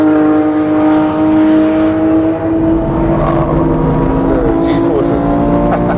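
Porsche sports car engine roaring at high speed around 180 km/h, a loud steady drone from inside the cabin with rising pitch and talk over it.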